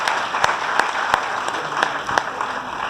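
Audience applause following thanks at a college stress-management lecture, a steady dense wash of clapping with a few sharper individual claps standing out, moderately loud and sustained throughout.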